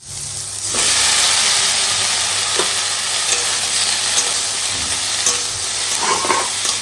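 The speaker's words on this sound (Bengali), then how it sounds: "কিন্তু চিংড়ি মাছ ভাজার দরকার নেই এখানেই কিন্তু চিংড়ি মাছ ভাজা হয়ে যায়" Prawns fry loudly in a hot pan, a dense, close sizzle and hiss that swells after a quiet start and holds steady, broken by a few scrapes of stirring.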